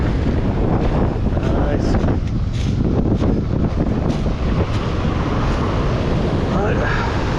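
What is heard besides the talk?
strong wind on a beach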